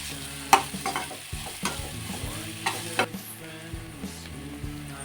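Onions fry and get stirred in a pan while cooking a vangibath gojju with brinjal, giving a steady sizzle broken by scraping stirs and spatula knocks close by.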